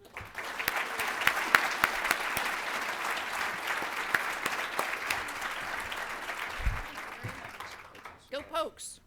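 Audience applause welcoming Oklahoma Governor Mary Fallin at a lunch keynote, sustained clapping from a large crowd that fades out near the end.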